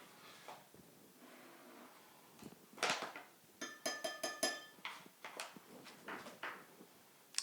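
A tablespoon clinks and taps against a container while sodium ascorbate powder is stirred into liquid, a quiet start followed by a run of sharp, rhythmic metallic knocks.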